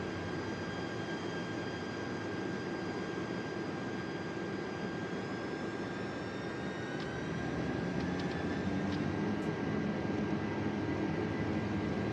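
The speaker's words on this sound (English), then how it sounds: "Boy, these sound different. These engines don't sound like those little A320" Jet airliner engines in Microsoft Flight Simulator 2024 hold a steady, loud broadband roar with a thin high whine, swelling slightly louder near the end; no one speaks.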